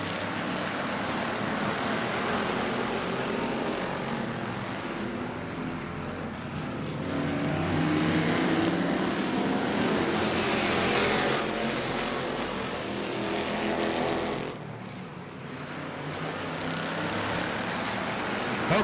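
Race cars at Auburndale Speedway roaring together at a restart, a continuous loud engine drone that swells mid-run and dips briefly before rising again, no talk.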